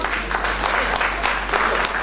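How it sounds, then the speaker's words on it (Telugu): A group of performing artists at a Telangana cultural show in Sri Lanka claps together, dense and steady applause held close for about two seconds. "ఒక్కసారి మన కళాకారులందరూ చప్పట్లతో"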